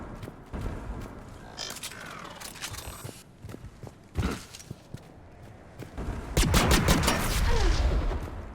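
Mass Effect 3 gunfire: several sharp, loud shots with brief whirring charge-ups before them, ending in a dense burst of rapid firing.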